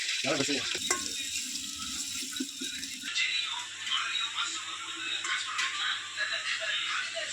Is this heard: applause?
no